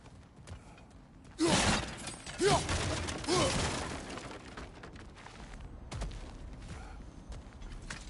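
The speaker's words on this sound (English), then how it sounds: "back to smashing through things for fun and profit" Objects are smashed in God of War Ragnarok: a loud shattering crash, then a couple more breaking impacts with debris clattering down before fading to quiet.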